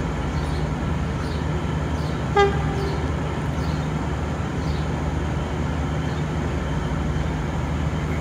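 A Southern Cross train sounds one short, loud horn blast near Castlemaine over a steady low rumble of idling rail machinery.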